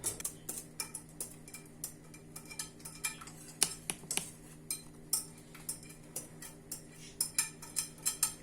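A utensil taps and scrapes rhythmically against a pot, steady repeated clinks of stirring thick semolina milk pudding, close and moderately quiet, with no talking.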